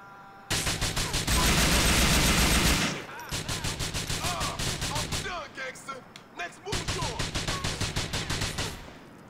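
Rapid gunfire bursts in the Grand Theft Auto 4 video game: a long dense volley, a brief pause, then repeated sharp shots in stuttering runs, loud and close throughout.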